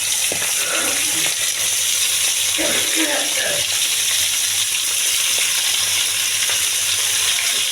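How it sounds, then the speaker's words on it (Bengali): Vegetables tipped into a pan of frying tomatoes with black cumin, giving a loud, continuous close sizzle with a few clattering stirs early on. "টমেটোগুলো ভাজা হয়ে গেছে, এখন সবজিগুলো দিয়ে দেবো"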